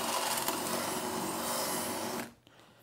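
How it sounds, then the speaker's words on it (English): A power drill with a 3/16 bit bores out rivets on a vehicle's snow flap, whining loud and steady for about two seconds before cutting off abruptly. "I'm gonna drill out these rivets."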